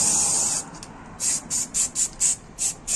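A spray paint can hisses in about seven short, rhythmic bursts on a balcony, close and loud after an opening longer spray, with no talking.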